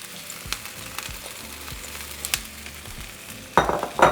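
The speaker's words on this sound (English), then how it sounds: "We're going to saute for 3 minutes. Okay, so after 3 minutes, we're going to add our peppers." Corn and peppers sautéing in a pan, a continuous sizzle broken by repeated scraping stir strokes and louder clatter toward the end, close and without speech.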